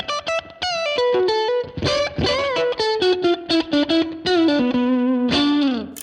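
Electric guitar played through a Valeton GP-200 high-gain distortion amp capture, a loud run of saturated single notes and bends with sustained, buzzy tone and brief gaps between phrases.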